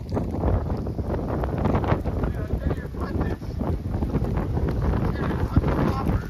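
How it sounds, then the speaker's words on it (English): Strong wind roars across the microphone throughout, a loud continuous buffeting rumble outdoors during a birthday golf round, with voices talking over it. "Wow, this wind is crazy."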